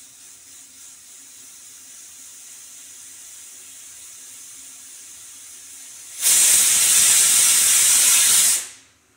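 A pressure cooker holding a drumstick vegetable curry suddenly blasts a loud, sharp steam hiss after a quiet stretch of kitchen hum. The hiss holds for a couple of seconds, then cuts off abruptly.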